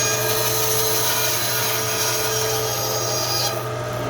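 A coping saw cuts a wood block for carving a shoe, giving a continuous, close rasping scrape that holds steady and eases slightly at the end.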